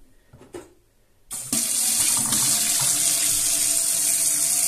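Water from a newly installed kitchen faucet bursts on after a couple of faint handling knocks, then pours steadily and loudly into the sink, close and continuous.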